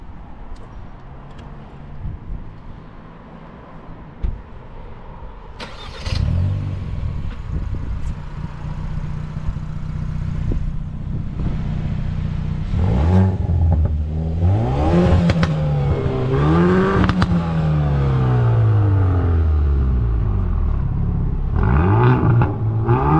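A Hyundai i30 N Performance engine with its air filter removed idles roughly, then revs repeatedly with a loud, raw intake roar, the pitch sweeping up and down in several bursts close by.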